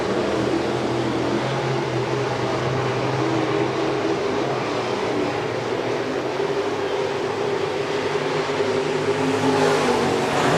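Modified race cars roar continuously around the Shelby County Speedway track, a dense, steady wash of engine noise with no breaks, heard from trackside.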